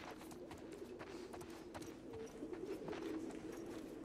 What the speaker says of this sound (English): I think those are birds chirping.